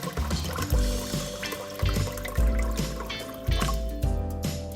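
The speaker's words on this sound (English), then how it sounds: "You add water enough to cover the pork belly." Water poured into a pot over a slab of pork belly about 1.5 inches thick, a steady splashing, filling stream running close and continuous, with faint kitchen clatter and no talking.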